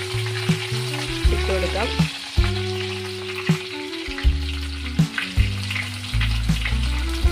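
Shallots and ginger-garlic paste fry in hot oil in a pan for a sardine curry, giving a constant close sizzle broken by regular clacks and scrapes from stirring, while a voice speaks briefly.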